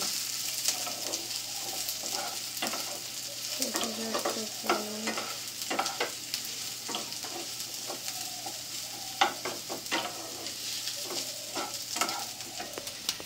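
Food sizzles in a pan while a utensil scrapes and stirs in repeated irregular strokes, close and fairly loud, with no speech.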